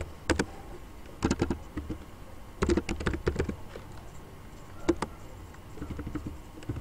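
Someone types ABAP program code on a computer keyboard. Irregular bursts of crisp, close keystrokes come in small clusters separated by short pauses, clearly audible and without speech.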